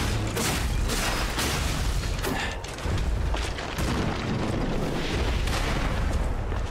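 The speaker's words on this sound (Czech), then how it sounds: "Furt si hlídej ten kanón, jo? Si ho uslyšíš." Cannon fire in Lies of P in the Barren Swamp area, heard as a run of heavy, loud booms against a dense wash of game noise.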